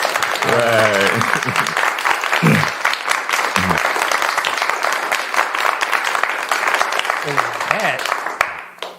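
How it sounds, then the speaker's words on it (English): Sustained audience applause at a Women's History Month event, a thick, continuous rush of clapping that fades near the end, with voices speaking briefly over it at a few points. "let's give her applause"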